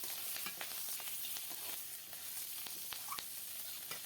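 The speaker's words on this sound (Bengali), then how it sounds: "এই যে মাছ দিয়ে দিলাম, পুঁটি মাছ, কাঁচামরিচ। এবার ভালো করে এগুলো ভেজে নেব।" Small puti fish and green chillies fry in a pan, giving a faint, steady sizzle with scattered light pops and crackles. No voices are heard.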